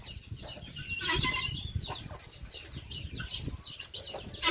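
Chickens clucking busily as they are let loose, several birds cackling close by with occasional wing flutters, steady throughout.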